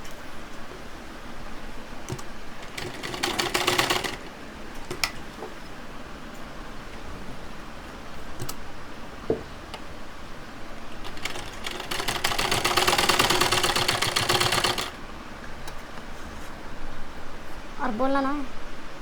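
A sewing machine stitches a pocket onto palazzo pants in two bursts of rapid mechanical whirring, with quieter handling noises between them and a voice talking throughout.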